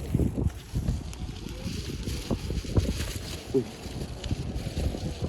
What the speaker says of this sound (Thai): มีลมด้วยทุกคน